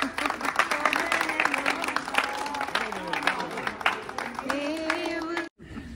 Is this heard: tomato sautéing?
no